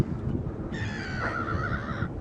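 Seagulls call over a garden path at Versailles where ducks are being fed, a single harsh, drawn-out squawking cry rising above steady outdoor background noise.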